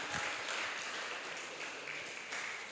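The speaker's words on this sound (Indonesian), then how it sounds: "Tepuk tangan untuk pengurus dan pelayan PT." Applause from a church congregation at a youth fellowship worship service, a steady wash of clapping that stays moderately loud and fairly even throughout, with no talk over it.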